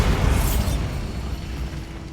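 A Bombarda spell explosion from Hogwarts Legacy goes off as a loud booming burst with a swishing, rising sparkle at the start, then rumbles and fades over about two seconds.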